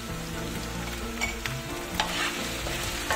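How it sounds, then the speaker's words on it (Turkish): Meat and onions fry in a granite sac pan, giving a close, constant sizzle broken by brief scraping stirs of a utensil. "Soğanımızla beraber kavuracağım."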